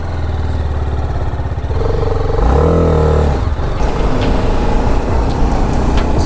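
A motorcycle engine drones loudly as the bike is ridden, heard from a GoPro Hero 11 moto vlog rig, with a steady low rumble and a brief rise in pitch as it revs partway through.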